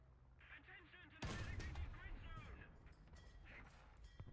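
In a War Thunder tank battle, a sharp, heavy gun blast cracks out close by and rolls into a booming rumble that decays over a few seconds, with someone talking over the game audio.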